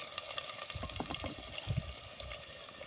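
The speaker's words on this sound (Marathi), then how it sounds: "आता कांदा चांगला गुलाबी रंग येईपर्यंत आपल्याला परतून घ्यायचा आहे" Finely chopped onion frying in hot oil in a pan for an old-style home vegetable dish, giving a soft, steady sizzle with occasional stirring scrapes and low thumps, fairly quiet and close.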